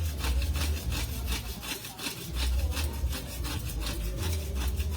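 Hand saw cutting through thick material at a storm drain, a steady back-and-forth rasp with regular strokes, close and loud, with a pause near the middle before sawing resumes; no talk.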